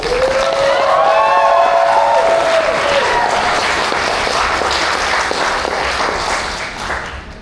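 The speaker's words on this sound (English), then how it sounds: "Round of applause for both teams." An audience at the Australs 2025 open debate semifinal breaks into sustained applause and clapping, a dense, loud crowd wash that holds steady before thinning slightly toward the end.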